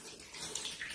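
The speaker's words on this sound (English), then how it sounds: "pour it through the sieve so that all the bits come out" Homemade ginger wine poured through a sieve: liquid splashes and trickles steadily, a soft continuous pouring sound heard at low volume for about a second.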